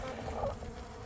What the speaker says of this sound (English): So what the bees will do is they'll get in here.